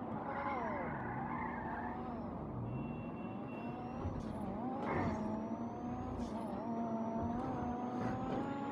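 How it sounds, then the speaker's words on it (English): A car engine revs and whines continuously with tire squeals and skidding, loud and steady throughout, like a racing game's engine audio, from a car in GTA 5 Online. "I want to hear this engine modified."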